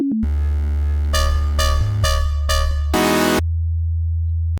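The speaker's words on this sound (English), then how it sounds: "I added some wub basses from the plugin called Anna 2, a very good plugin for Complextro" Wub bass from the Anna 2 synth plugin in a complextro track: a sustained, buzzy synth bass line with several short rhythmic bursts and stepped pitch changes, ending on a held low note, loud and alone.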